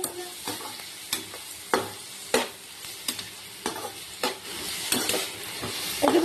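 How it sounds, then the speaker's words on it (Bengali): Bitter gourd and pumpkin pieces fry with salt and turmeric in a pan, a soft steady sizzle punctuated by sharp, repeated spatula scrapes every second or so, close up with no speech. "উচ্ছে কুমড়ো দিয়ে একবার নুন হলুদ দিয়ে দিয়েছি, দিয়ে ভাজা ভাজা করছি"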